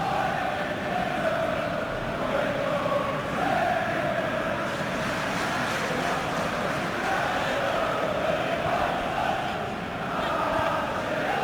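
Football stadium crowd at a Leeds United versus Nottingham Forest match applauding a near-miss shot, a steady, broad wash of clapping and crowd noise filling the ground at constant loudness without a commentator's voice.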